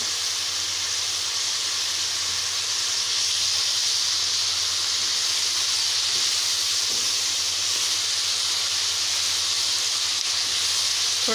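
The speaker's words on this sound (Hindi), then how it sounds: "इसको थोड़ा सा फ्राई कर लेते हैं।" Capsicum, onion and chicken fry in a pan for a shashlik gravy, giving a loud, unbroken hissing sizzle that holds steady throughout, heard up close with no speech.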